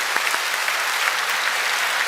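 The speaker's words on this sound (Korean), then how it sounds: "우리 박수로 한번 축복하고 격려하겠습니다" A church congregation claps for the choir during a Sunday worship service, steady dense applause filling the sanctuary for about two seconds with no voices over it.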